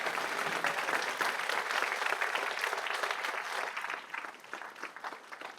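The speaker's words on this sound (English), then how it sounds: "How about a round of applause for our seniors?" Audience applause for seniors at a spring instrumental concert, a steady wash of clapping that thins out toward the end, moderately distant and fairly quiet.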